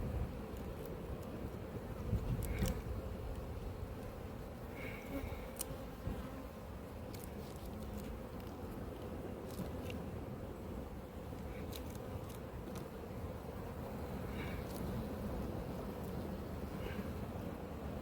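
Honeybees of an open hive colony in an apiary buzz steadily and densely up close, a continuous unsettled drone with occasional louder passes of individual bees near the ear, with no talking.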